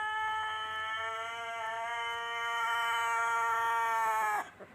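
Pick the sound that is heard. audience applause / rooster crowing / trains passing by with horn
rooster crowing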